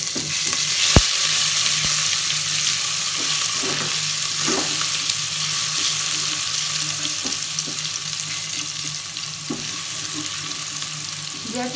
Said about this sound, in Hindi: मैं इसके बाद जो हमारे पास अदरक लहसुन का पेस्ट है मैं वो ऐड कर दूंगी अपना।